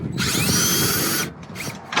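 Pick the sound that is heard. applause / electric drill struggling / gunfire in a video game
electric drill struggling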